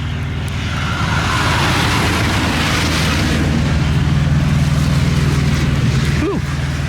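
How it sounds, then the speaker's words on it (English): Cars and trucks creep down a hill in a snowstorm, a steady low engine and tyre rumble with broad wind-like hiss throughout, loud and continuous, with a brief rising whine near the end. "cars and trucks trying to make it down the hill"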